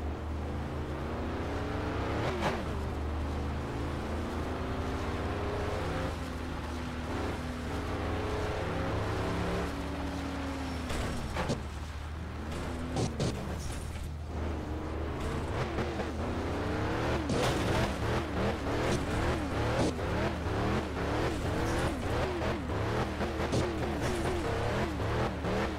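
A Saveiro car drifts in the game My Summer Car, its engine droning steadily for the whole stretch with rising revs and tyre noise, loud and close, no talk over it.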